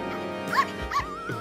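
Cartoon dogs in a Motu Patlu episode give two short, whining yelps about half a second apart, fairly close, over a steady music bed.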